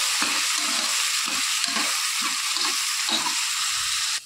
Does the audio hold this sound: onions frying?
yes